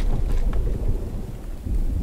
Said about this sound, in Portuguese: O barulho de chuva desse jogo é incrível, galera.